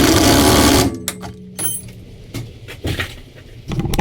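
A burst of an Ugga Dugga impact wrench tightening a nut on a roll cage bolted through a track car's floor, loud and dense for just under a second, followed by scattered metallic clanks and knocks.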